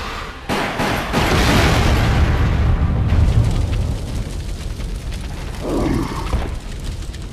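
An exploding drum goes off in Resident Evil: The Umbrella Chronicles on PlayStation 3, a loud booming blast that rolls out for several seconds, followed by a short burst of later debris or noise.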